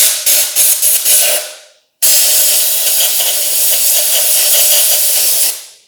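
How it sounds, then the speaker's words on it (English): Short bursts of compressed air from a small air-compressor nozzle blowing debris out of a freshly threaded hole: four quick loud puffs, a pause, then one long steady hissing blast. "I use my little ear attachment on my compressor"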